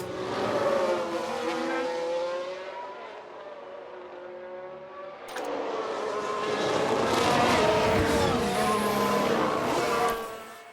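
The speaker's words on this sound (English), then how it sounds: "Sounds like we've had a spin." In the F1 Manager 22 racing game, a race car's engine drones and revs, then the car spins out with squealing tires and skidding, the engine roaring back up afterward.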